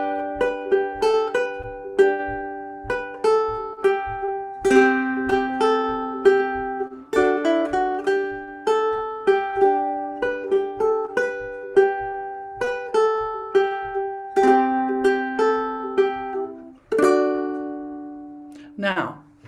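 A solo ukulele picks out the verse of a song, plucked notes ringing close and clear in a steady, gently rhythmic pattern that ends on a strummed chord.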